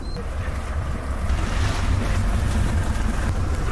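The boat Polar Wind motors across the sea off Svalbard, its engine a low steady rumble mixed with rushing water, waves and wind buffeting close to the microphone.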